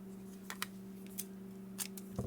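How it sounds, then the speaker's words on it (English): Scissors cutting tape during a touchscreen repair on a workbench: several quiet, crisp snips in irregular succession over a faint steady electrical hum. "And this tape is too big. I need to cut it."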